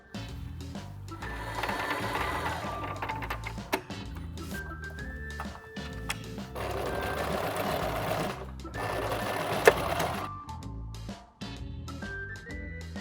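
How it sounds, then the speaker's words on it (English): A sewing machine stitches the shoulder seams of a dress facing for a Mary Quant-style minidress, a close, loud, steady mechanical whir running in several long bursts separated by brief pauses, no voices. "I'm going to stitch along the 2 shoulder seams to create one complete facing piece"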